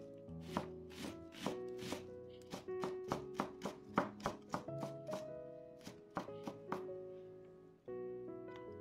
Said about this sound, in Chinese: 1/4个洋葱， 也是切成小丁。